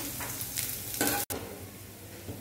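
Garlic frying in hot oil with crackling mustard seeds and fenugreek for kadhi, a steady close sizzle with a brighter burst of spatter about midway before a brief cut, then continuing crackle.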